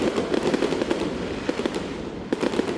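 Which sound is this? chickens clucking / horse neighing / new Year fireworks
new Year fireworks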